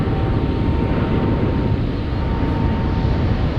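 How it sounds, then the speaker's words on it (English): Large airliners taxi and land at San Francisco airport, heard as a broad, steady jet roar filling the air, loud and unbroken throughout, with no voices. "I have something very big taxiing next to us and something very big landing on 28 left."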